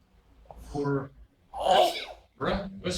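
Someone sneezes in a chemistry lecture hall, with a sharp burst standing out among a few short vocal sounds, fairly close and moderately loud.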